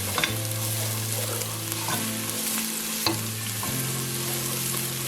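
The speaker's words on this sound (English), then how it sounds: "Add in your leek stems and stir them around gently." Wild leek stems frying in a pan on medium-high heat, a close, steady sizzle with gentle stirring scrapes and a low hum running throughout.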